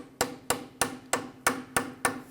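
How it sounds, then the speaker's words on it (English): A hammer taps a tie rod on a 1999–2004 Jeep Grand Cherokee, seven sharp metallic strikes at an even, steady pace, close and clear. "I'm going to go ahead and use my hammer and just kind of give this a few taps."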